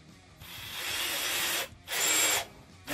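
A Tramontina cordless drill-driver drives a larger wood screw into wood in two bursts of steady, close whirring, a long run followed by a brief pause and then a shorter run, with no talk.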